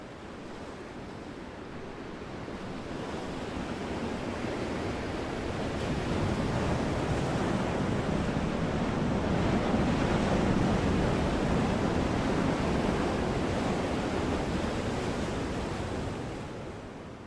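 Dark, frigid ocean waves surge and wash in a continuous, loud roar of surf that builds gradually and fades slightly at the end, with no voices.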